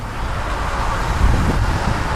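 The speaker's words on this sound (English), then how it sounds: "It's bloody windy today" Gusty wind roars steadily across the microphone on a bike ride along the road, a dense low rumble with a stronger buffet midway.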